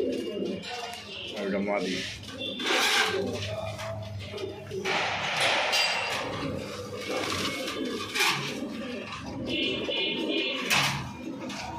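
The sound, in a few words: pigeons cooing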